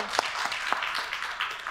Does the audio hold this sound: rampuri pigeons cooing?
no